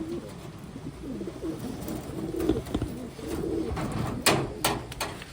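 Pigeons coo repeatedly at close range, soft throaty calls overlapping in an aviary of Wantai birds, with some rustling and brief sharper noises around them.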